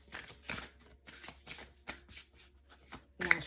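Oracle cards are shuffled by hand in a quick, uneven series of soft riffling bursts, close and quiet.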